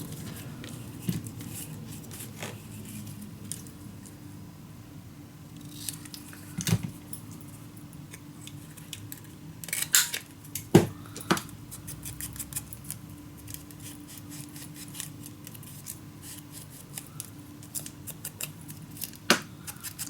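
Scissors snip paper for a low-budget scrapbook single folio, a scattering of sharp crisp cuts over about twenty seconds with quiet handling rustle between them, close and moderately soft.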